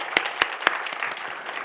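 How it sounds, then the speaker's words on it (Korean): Applause in a church service: a few distinct loud claps at an even beat, then quicker softer clapping trailing off, brief and close. "하나님께 영광의 박수를 올려드리겠습니다"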